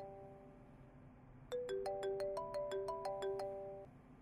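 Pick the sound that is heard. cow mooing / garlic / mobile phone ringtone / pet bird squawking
mobile phone ringtone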